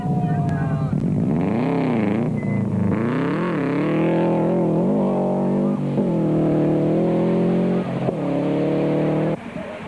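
A Subaru rally car races along a forest rally stage, its engine revving hard and rising and falling in pitch through repeated gear changes, loud and close for the whole stretch.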